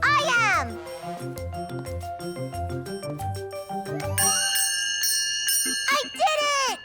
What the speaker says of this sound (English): I'm going to ring the bell first.